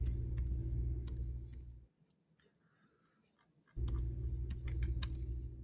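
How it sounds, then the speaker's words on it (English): Rapid clicks of keys being typed on a keyboard, steady and close, with a short quiet pause in the middle before the tapping resumes. "Sorry, I was typing."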